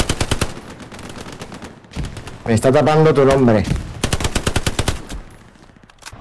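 Gunfire in the Hell Let Loose video game: rapid automatic bursts crackle close and loud, pausing while someone speaks briefly before the shooting resumes.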